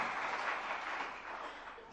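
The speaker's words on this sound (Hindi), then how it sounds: "जरा तालियां बजा दीजिएगा।" Applause from an audience at a Jain religious question-and-answer discourse, a steady, fairly quiet wash of clapping that lasts throughout and sounds distant and diffuse.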